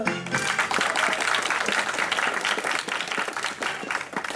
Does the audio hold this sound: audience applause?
yes